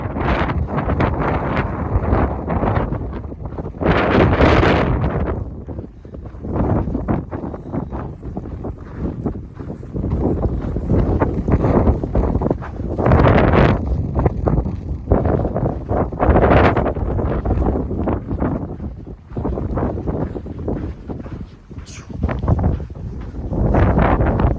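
Strong, gusty wind buffets the microphone on a windy hiking trail into Tehachapi along the Pacific Crest Trail, roaring loudly and continuously with surging gusts and no voices.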